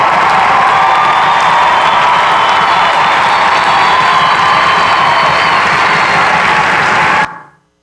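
A church congregation shouting and applauding together, a loud, dense wall of cheering and clapping that holds steady for seven seconds, then cuts off abruptly.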